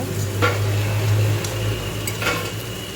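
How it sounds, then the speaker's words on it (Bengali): Whole spices, a dried red chilli, bay leaf, cardamom, cloves and cinnamon, temper in hot oil with a close, steady sizzle and a couple of short utensil clinks. "এবার ওই তেলে আমি একটা শুকনো লঙ্কা একটা তেজপাতা দুটো এলাচ লবঙ্গ আর একটু দারচিনি ফোড়ন দিলাম"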